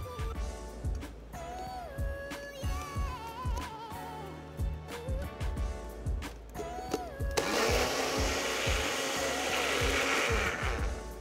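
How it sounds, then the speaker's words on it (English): A countertop blender whirs up a smoothie-like coffee drink at a barista competition finale, starting as a loud steady grinding roar midway and running continuously while someone speaks over the earlier part. "we are ready to rumble this up in my blender to give you a smoothie-like"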